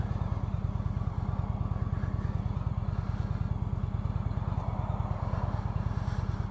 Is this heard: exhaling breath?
no